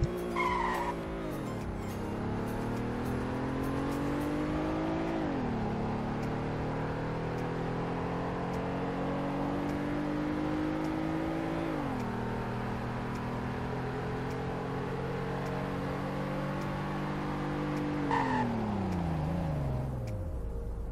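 SUV in the Roblox Greenville video game running a 0 to 100 acceleration and braking test, a steady synthetic engine drone that climbs in pitch and drops back at each gear shift, ending in a falling note as it slows, with no talking.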